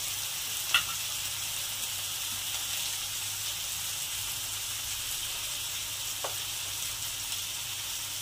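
Ginger, cumin and garlic paste fry in a pan for a khoira hilsa fish curry with elephant foot yam and potato. A continuous soft sizzle carries a couple of brief utensil taps, and no voices are heard.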